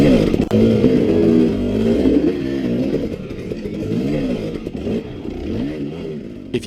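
A 2017 KTM 250 XC two-stroke dirt bike revs hard while climbing a rock wall, its engine note rising and falling rapidly with clattering and scraping from the terrain close by.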